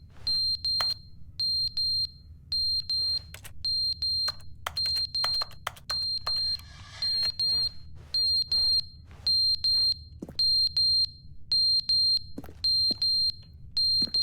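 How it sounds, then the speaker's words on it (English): A smoke detector in the video game The Stanley Parable chirps in a loud, steady train of regular high beeps over a low background hum, with a few clicks in between. "Wait, why is there a smoke detector in here?"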